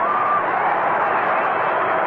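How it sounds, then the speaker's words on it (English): A standing-room-only crowd at a Cubs baseball game gives a standing ovation, a dense, steady roar of applause and cheering that fills the whole stretch at even loudness. "as he acknowledges the standing ovation he is getting from this standing room only crowd"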